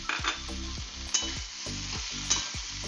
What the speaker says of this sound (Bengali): এবার আমি মিশিয়ে দিলাম ভাজা চিংড়ি মাছ